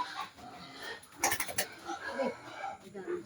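Pigs at feeding time on a farm, grunting and squealing together as food arrives, a busy mix of animal noise with clucking fowl nearby and a person talking over it.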